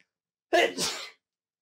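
One sharp, loud sneeze bursts out after silence in two quick parts, a sudden intake then a forceful release, close to the mic, followed by quiet.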